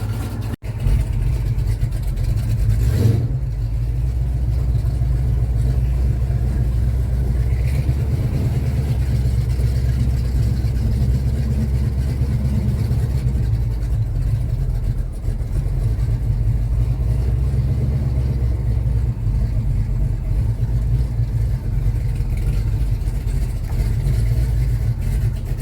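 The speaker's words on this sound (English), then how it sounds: "That exhaust note is fantastic." Pontiac LeMans engine running steadily, a deep rumbling exhaust note that holds at a constant loud level throughout, with a brief sharp noise near the start.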